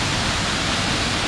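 Waterfall at Yelagiri hidden falls on a trekking route: a dense, even roar of falling water fills the space, loud and close, with no voices.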